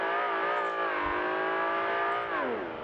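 Old Ferrari mod car in BeamNG.Drive, its engine droning with a buzzy, harsh tone that holds steady, then sags and rises in pitch as the revs change, loud and close with no talk.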